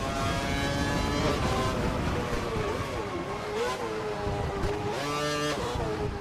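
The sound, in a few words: race car bumping over curbs in video game F1 2012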